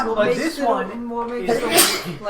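A single sneeze bursts out amid casual conversation among several people indoors, brief and fairly close, with talk continuing around it.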